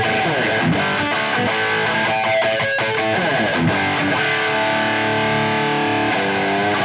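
A Kramer electric guitar plays distorted chords and notes through a Victory Super Sheriff amp miked with a Shure SM57, fed by a Shure GLX-D wireless system and a Delverb reverb, loud and sustained with rhythmic strummed stabs.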